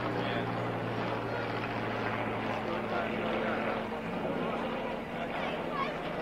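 Steady propeller-engine drone from a Sopwith Triplane, a First World War fighter, flying at a 1997 military airshow at Old Warden, with a constant hum that stays even throughout while a voice seems to talk over it.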